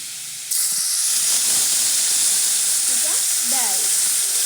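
Garlic and curry leaves crackle and splutter in hot oil during tempering, a loud continuous hiss with sharp pops throughout, with brief voices faintly underneath.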